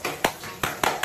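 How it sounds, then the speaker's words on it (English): Scattered claps from a class on a video call come through as a few sharp, irregular smacks, fairly faint over background room noise. "Thank you for clapping back, because last time none of you guys did it."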